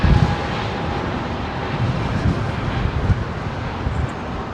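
Aircraft taxiing at Heathrow Airport, heard as a distant, steady low rumble and whoosh mixed with wind buffeting on the microphone.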